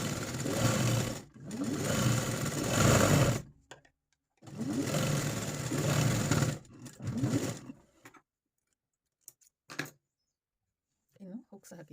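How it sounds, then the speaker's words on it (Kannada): A sewing machine stitches the side seam of a blouse in several bursts of fast, close mechanical whirring with short pauses between them, followed by quieter handling noises and faint talking. "ನೀಟಾಗಿ 2 ಸ್ಟಿಚ್ ಹಾಕ್ತೇನೆ"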